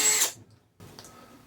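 A power drill bores a hole through a used Wald bicycle basket being fitted to an upright road bike conversion, giving a short loud whine that cuts out abruptly, followed by quieter handling noise.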